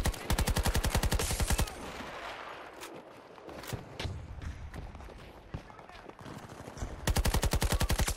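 AKS-74U gunfire in Battlefield 2042, rapid loud automatic bursts at the start and end, with a quieter stretch of scattered shots, thumps and a voice talking between them.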